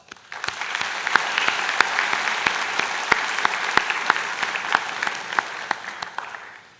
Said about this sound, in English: Now, this is a celebration, so give yourselves a round of applause.